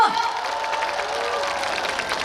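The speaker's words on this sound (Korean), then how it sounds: "우리 다 같이 박수 한번 드릴까요?" Audience applause at an outdoor festival at Apsan in Daegu's Nam-gu. A dense, steady wash of clapping from a crowd holds for the whole moment with no pause.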